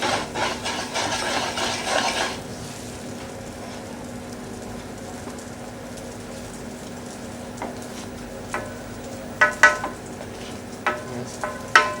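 Roux being stirred as stock is added for a blanquette, a brief sizzling rush at first, then quiet scraping with a few sharp taps of the spoon against the pan near the end.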